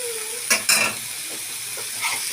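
Macaroni being stirred in a pan gives a steady hiss and sizzle broken by a couple of close scraping clatters from the stirring, then softer movement; no talking.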